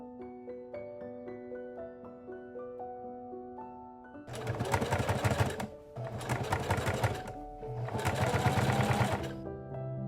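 A sewing machine stitches the facing onto the center front of an 1870s corset in three loud, steady bursts with short pauses between them, after a stretch of soft music.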